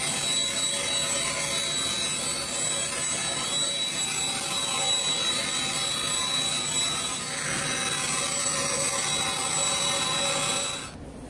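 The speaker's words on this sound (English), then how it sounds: "I'm using my bandsaw circle cutting jig" A bandsaw fitted with a circle-cutting jig grinds steadily through wood with a harsh, loud, continuous rasp that holds for several seconds, then cuts off abruptly at the end.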